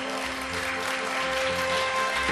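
Audience applause at a baseball defensive-award ceremony as a shortstop walks on stage, a dense, steady wash of clapping that fills the hall throughout, with a faint tonal hum underneath.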